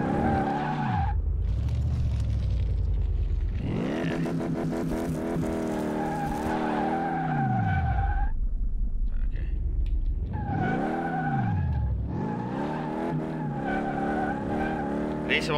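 A car in Car Mechanic Simulator 2018 skids and slides, its engine swooping up and down through repeated revs as the tires squeal in long screeching bursts, loud and close, with brief quieter gaps between slides.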